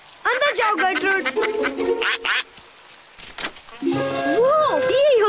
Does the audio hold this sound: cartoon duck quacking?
yes